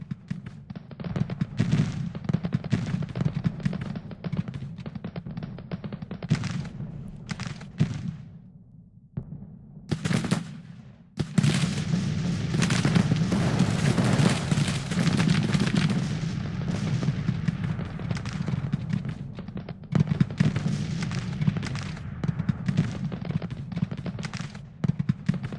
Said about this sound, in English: I'll take 12-pound field guns.